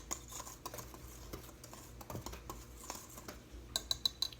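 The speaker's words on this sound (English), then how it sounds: "I'm just going to take my whisk here and get that salt well incorporated into the flour" A whisk stirs salt into flour in a bowl, making soft, close scraping and light ticking against the sides, with a quick run of taps near the end.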